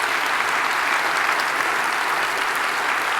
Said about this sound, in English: could you just give them a round of applause right now